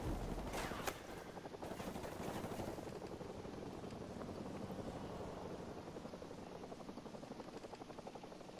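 A helicopter in the game Call of Duty Modern Warfare Remastered gives off a steady, fast blade chop that continues throughout, with a burst of gunfire near the start, rather faint in the mix.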